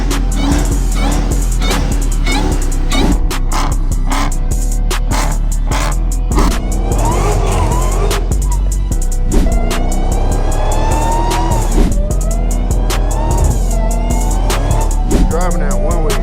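A Dodge Hellcat's engine revs and accelerates hard through city streets at night, loud and continuous from inside the car, with rising and falling pitch sweeps as it pulls through the gears.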